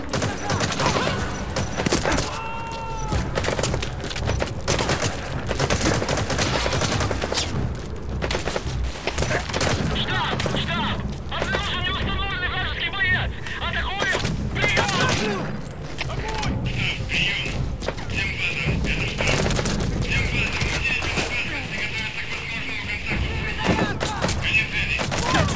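Gunfire and explosions from the Metal Gear Solid 5 video game crackle in bursts under steady music and effects, with heavy thumps and booms scattered across a busy, loud battle mix.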